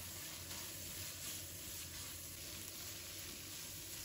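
Scallion, ginger, garlic, fermented black beans and red chili stir-frying in a wok with minced meat, a soft steady sizzle heard faintly and evenly throughout.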